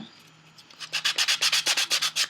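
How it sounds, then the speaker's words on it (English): A small hand sander is rubbed back and forth along the edges of collage cubes in about a dozen quick, even, rasping strokes, close and clear. "took the little sander, and I sanded the edges down"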